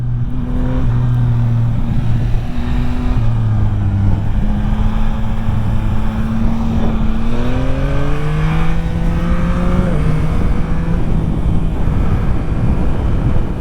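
A 2025 Yamaha MT-09 A2 motorcycle engine pulls steadily and loudly from the rider's position, rising in pitch through several gears with brief dips at each shift, alongside constant wind and road roar.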